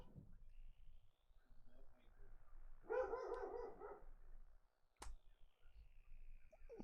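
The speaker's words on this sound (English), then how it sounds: "there's my dog making himself known" A pet dog barks a short burst of sharp yelps in a home, heard at moderate distance and fairly faint, surrounded by quiet room tone and low murmuring.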